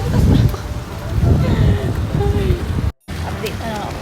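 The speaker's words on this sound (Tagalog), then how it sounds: "Ayan, umuulan nga pala ngayon." Steady rain falls outdoors on a cold night, a continuous hiss mixed with gusty wind buffeting the microphone, briefly cutting out near the end.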